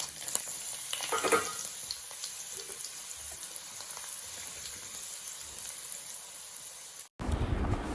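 Dried red chillies, broken in half, sizzle steadily in hot oil with fenugreek while pickle is being made, a continuous close hiss with a brief stirring clatter early on, cutting off abruptly near the end.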